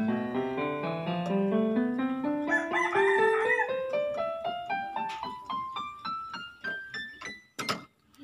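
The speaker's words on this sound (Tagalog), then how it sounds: "Ang ingay naman itong manok na to." A rooster crows several times in a row, each call rising and breaking into sharp, fading notes, fairly close and clear.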